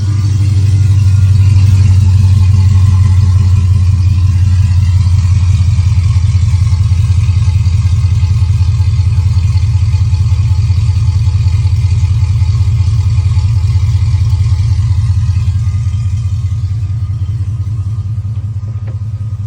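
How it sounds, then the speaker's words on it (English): Loud, close, deep exhaust rumble from a GMC Sierra truck engine with a stock cam and long-tube headers. It opens with a heavier rev, then holds a steady, throaty drone that eases slightly toward the end. "To me, it sounds pretty good with the long tubes"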